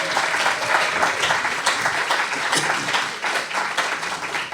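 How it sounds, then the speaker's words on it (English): Warm audience applause welcoming folk performers to the stage at a live gig, a dense, loud round of clapping sustained throughout without a break. "give a really good, nice, warm round of applause"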